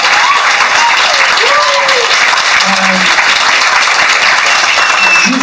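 An audience applauds steadily for Jean-Luc at a conference about Iran, a loud, continuous wash of clapping from the crowd with some faint background sounds.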